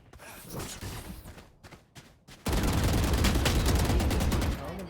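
Gunfire in Valorant: scattered shots and movement at first, then after a brief lull a loud, sustained burst of rapid fire dominates the second half.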